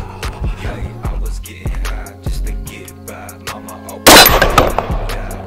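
Gunshots at a private outdoor shooting range: a rapid string of sharp, close cracks in the opening seconds, then a louder, denser burst of fire near the end, with crickets chirping steadily in the background.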